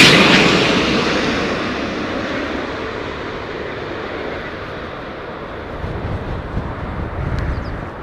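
A British Airways Airbus A350-1000 jet at Heathrow Airport in gusty storm conditions makes a loud, broad engine roar that slowly fades, with wind rumble and buffeting swelling near the end.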